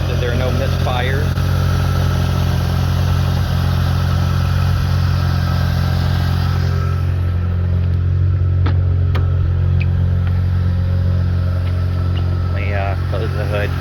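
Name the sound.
1989 Mazda RX7 Turbo II engine idling quietly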